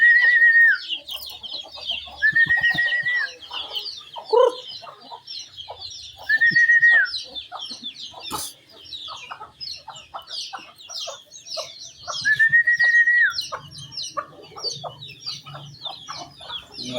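Native chickens and chicks cluck and peep busily around feeding time in a backyard, with a rooster crowing loudly several times over the steady chatter of the flock.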